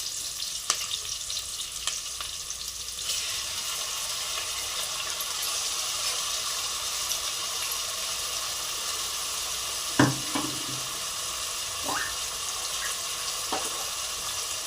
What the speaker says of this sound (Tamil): இதில் வந்து நம்ம இஞ்சி பூண்டு விழுது சேர்த்துக்கலாம்.